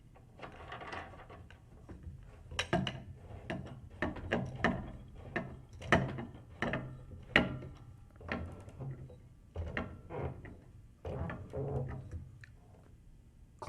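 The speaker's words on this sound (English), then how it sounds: "Clamp it down evenly and firmly." A Pearl bass drum pedal is clamped onto the drum hoop: a run of close, faint mechanical clicks and ratcheting turns in irregular bursts, with brief pauses between them.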